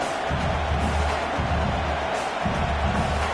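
A football stadium crowd roars steadily before a field goal attempt, a dense sustained wash of cheering and noise with deeper swells rising and falling, loud and continuous throughout.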